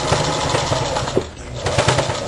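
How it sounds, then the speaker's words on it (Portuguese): Sewing machine running in continuous bursts as it stitches fabric petals along the edge of a round fabric piece for a coffee pot mat, a steady close mechanical whir with a brief pause midway. "Vou fazer uma costura bem na beiradinha para unir as pétalas com a parte redonda."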